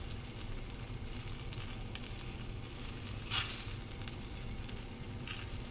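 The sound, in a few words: shrimp frying in pan for shrimp scampi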